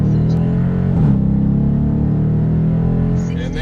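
A Dodge Challenger R/T launching hard from a standstill on a street run, its engine a loud, steady rumble across the whole stretch with a brief surge near the start as the tires spin.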